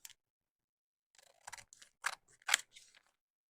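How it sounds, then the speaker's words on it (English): Scissors trimming folded plastic packaging, a few crisp close snips and crinkly cuts in an uneven sequence after a quiet start. "So I'm going to just trim where it's folded."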